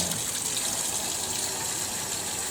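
Tap water runs steadily while items are washed during an industrial ritual cleansing demonstration, a continuous close splashing gush with no talk.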